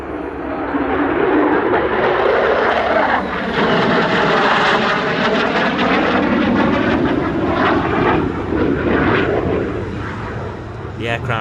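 An F-35 fighter jet flies inverted-to-inverted aileron rolls at the Wings Over Illawarra 2022 airshow. Its engine makes a loud, steady roar that swells and shifts in pitch as it passes, with no break for the whole stretch.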